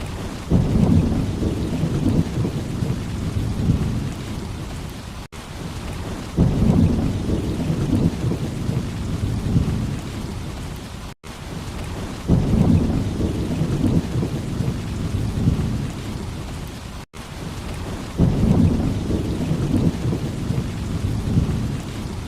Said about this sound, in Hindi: काले बादल हो रहे थे, बारिश भी हुई थी और बिजली भी पड़ रही थी।